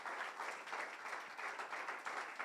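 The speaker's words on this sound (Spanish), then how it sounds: "Dale un aplauso al Señor" A church congregation claps in a steady rhythmic patter, moderately faint and even throughout, with no talking over it.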